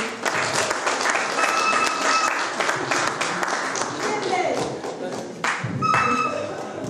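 Church congregation clapping loudly and continuously for performers playing Joseph and Mary at a special Christmas Eve service, a dense wash of applause with a few faint voices.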